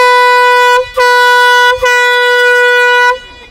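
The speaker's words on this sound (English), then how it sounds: "Gonna sound off this air horn." Loud, sustained air horn blasts with a strong harmonic tone, cut by two brief breaks into three long honks, then stopping abruptly, at a New England clambake on Cabbage Island.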